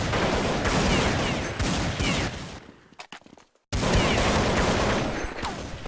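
Dense, continuous gunfire from Counter-Strike on the de_nuke map, loud and sustained rapid shots with a brief near-silent gap midway before the shooting resumes at full intensity.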